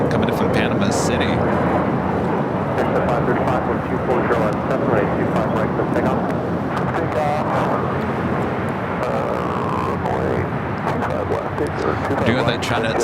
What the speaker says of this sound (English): the 737 MAX 9 coming in from Panama City